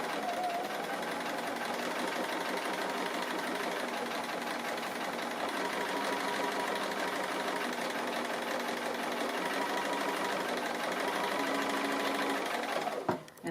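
A sewing machine runs steadily as it stitches a tree appliqué for a quilt, with a constant close mechanical whir and hum that stops abruptly at the end.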